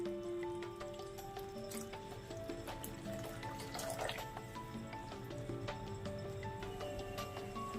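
A steady trickle of water poured into a cooking pan with chili powder for paneer masala curry, with faint clinks and drips in a kitchen, continuous and fairly quiet throughout.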